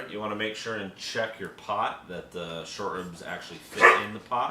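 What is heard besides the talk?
dog barking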